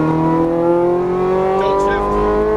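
Ferrari 430 Scuderia on a race track, its engine pulling hard with a steady rising drone of strong harmonics, loud and close, with a voice speaking briefly over it.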